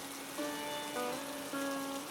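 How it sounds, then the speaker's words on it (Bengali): Steady rain falls continuously in a cartoon rural setting, a soft even wash with sustained musical tones layered over it, no voices. "সকাল থেকে একটানা বৃষ্টি পড়ে চলেছে"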